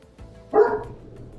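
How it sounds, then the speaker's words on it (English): A two-year-old dog gives a single sharp bark, fairly close and loud, standing out briefly over a quiet room background. "The one who's barking is the 2-year-old."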